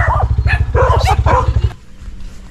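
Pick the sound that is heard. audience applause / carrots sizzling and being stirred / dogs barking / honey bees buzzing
dogs barking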